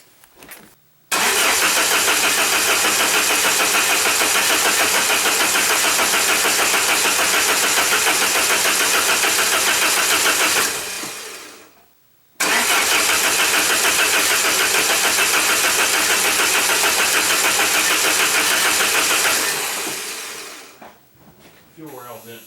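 A 1994 Saab 9000 engine cranks over in two long bursts of about ten seconds each, steady and loud, separated by a short pause, without catching and running.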